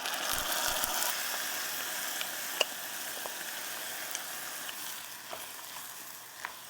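Around 1.5 cups of white indigenous West African rice sizzles and toasts with onions in a hot pan, a steady soft frying hiss broken by occasional faint clicks and scrapes of stirring.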